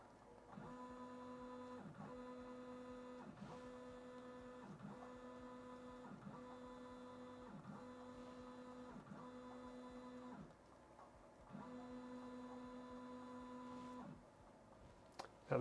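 A Voron V0.1 3D printer drives an axis, its stepper motors giving a repeating pattern of steady whining tones. The bursts start and stop in a regular rhythm, quiet and close, with a short pause near the end and no voices.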